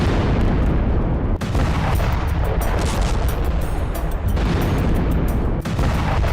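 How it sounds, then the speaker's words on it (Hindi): Explosive charges blow up roads in North Korea in a loud, continuous roar of blasts and rumbling debris, with a few sharp cracks cutting through the din. "जहां किम ने खुद अपने ही देश की सड़कों को विस्फोटक लगाकर उड़ा दिया"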